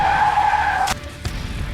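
A car skids hard to a sudden stop, a loud sustained tire screech lasting most of a second before cutting off, followed by a couple of brief thumps against background noise; no talking.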